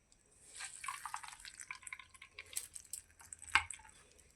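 Wet ground coconut is squeezed by hand to press out coconut milk for solkadhi, giving close, soft dripping and squishing trickles with a sharper splash near the end, quiet and without speech.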